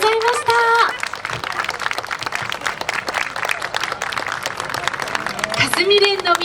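Audience applause at an Awa Odori dance festival after the Kasumiren troupe performs at the 42nd Futakotamagawa Cornus Florida Festival: a crowd claps densely and steadily, with an amplified voice speaking over it at the start and end.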